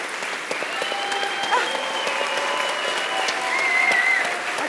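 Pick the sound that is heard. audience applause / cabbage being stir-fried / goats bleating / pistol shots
audience applause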